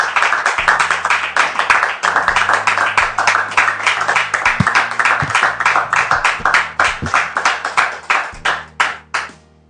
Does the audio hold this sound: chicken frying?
no